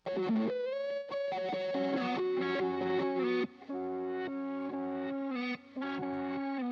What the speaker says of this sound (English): We have another sound that I recorded that was flipped. It was reversed